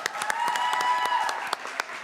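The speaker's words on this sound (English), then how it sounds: "So another round of applause." Audience applause at an open mic writing fellows performance, a steady patter of many hands clapping with sharp individual claps standing out, moderately close and sustained throughout.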